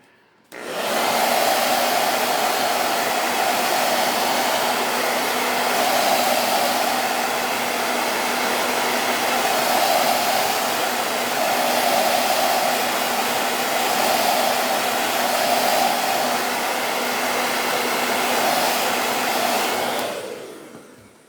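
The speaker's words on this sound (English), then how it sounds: "I'm just going to give it a little blow dry to dry it a little bit." A hair dryer blows steadily for about twenty seconds while drying a Valentine's Day craft, giving a loud, even rushing whoosh with a constant motor hum underneath that switches on and off cleanly.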